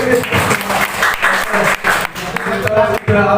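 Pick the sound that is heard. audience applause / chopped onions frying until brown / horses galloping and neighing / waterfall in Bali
audience applause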